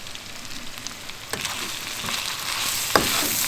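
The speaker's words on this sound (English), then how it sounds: "We're going to mix that all in good." Sweet potato and sausage stirred in a camp pan over a fire, a constant sizzle of frying with a few scraping knocks of a utensil against the pan.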